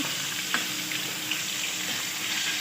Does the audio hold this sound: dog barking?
no